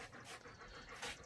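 A thirsty pet dog pants quickly and close by in a quiet room, short rapid breaths over about a second with a faint whimper near the end.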